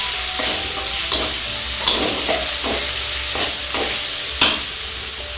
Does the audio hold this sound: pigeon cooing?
no